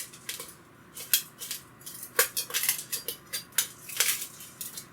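A freshly sharpened knife saws through a pork and Gruyere French dip sandwich, cutting it in two with a close, steady run of crisp crunching and scraping strokes.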